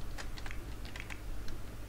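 Quick, light keystrokes rattle on a computer keyboard, a rapid irregular patter of clicks over a steady low hum, close by with no voices.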